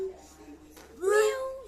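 A young child imitates a cat's meow with a single drawn-out, wavering cry that rises and falls, close to the microphone after a quieter vocal sound.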